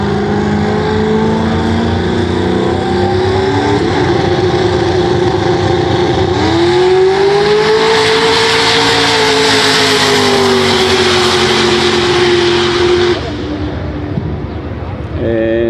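A BMW drag racing car accelerates hard down a street, its engine note climbing loud and steady for several seconds before easing off, with crowd voices and commentary underneath.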